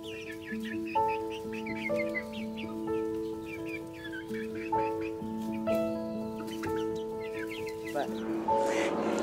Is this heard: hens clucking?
yes